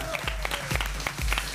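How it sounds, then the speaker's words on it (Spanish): A television studio audience applauds steadily with rapid overlapping claps, moderately loud and continuous for a moment. "quiere un aplauso como corresponde"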